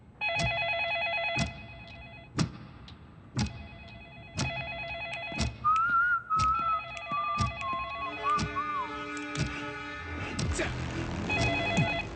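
A telephone rings in repeated evenly spaced bursts while an unanswered call is retried, fairly loud and close, with a rising electronic tone and other tonal sounds joining partway through, plus brief faint voices.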